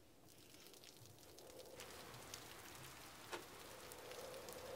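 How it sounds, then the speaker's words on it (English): Soft, steady rain patters continuously at a low level against a window pane, with an occasional slightly sharper drop tapping the glass. "raindrops pattered against the window pane"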